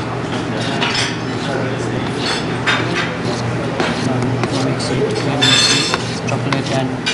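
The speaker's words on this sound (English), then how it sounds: "Now I am going to incorporate the chocolate mixer with the egg mixer. I'm slowly mixing." A chocolate mixture and an egg mixture for chocolate fondant are folded together slowly and gently in a bowl, giving a steady, soft scraping and occasional light clinks at close range.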